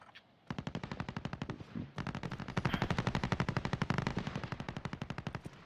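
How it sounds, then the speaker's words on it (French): Loud, sustained automatic gunfire in the video game Warzone: long, rapid bursts of rattling shots, one brief pause, then an unbroken stream of fire with no voices over it. "j'entends que tirer"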